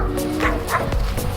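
Harley the dog gives a few short yips and barks at a group of llamas being herded outdoors, close and fairly loud over rustling and background noise.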